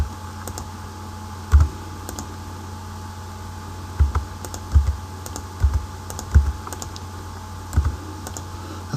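Sparse keystrokes on a computer keyboard as values are typed into a C# program, arriving as isolated clicks and short bursts over a faint steady room hum. No speech.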